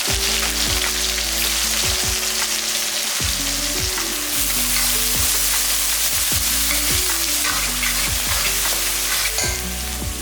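Big onions and curry leaves frying in hot oil for a chicken kulambu, a loud, steady crackling sizzle with a low hum underneath and no voices.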